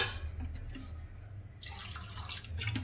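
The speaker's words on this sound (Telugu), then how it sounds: "ఫుల్గా నీళ్ళు పోసి" Water pours steadily into a cooking pot, a continuous rushing splash that grows brighter and fuller partway through.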